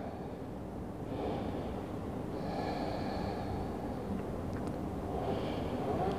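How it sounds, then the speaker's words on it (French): Deep, slow breaths in and out during a yoga pose, soft and close, three audible breath swells over steady low background hiss. "On prend quelques respirations."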